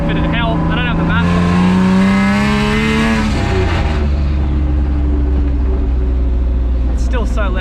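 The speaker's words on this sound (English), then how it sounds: "It is driving, it is going. It has a turbo hooked up to it." A turbocharged BMW E36 engine revs up with rising pitch, then eases off into a steady rumbling idle, close and loud, with a voice talking over it.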